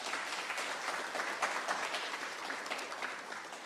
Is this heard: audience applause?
yes